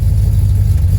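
A 1969 Chevrolet Camaro engine rumbles steadily and loud on a test drive, a low continuous drone with no talking over it.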